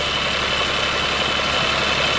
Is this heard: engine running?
yes